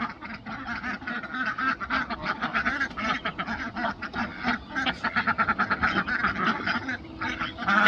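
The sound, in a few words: ducks quacking in a barnyard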